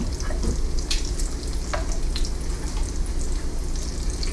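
Great Value hickory smoked bacon frying in a pan, a steady loud sizzle with sharp crackles and pops scattered throughout, no talking.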